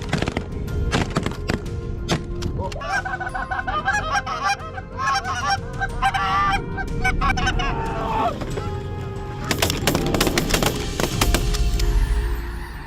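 Canada geese in the hunting game Invasive honking repeatedly in a dense, overlapping chorus, with sharp thunks and clatter around the calls and noisy bursts toward the end.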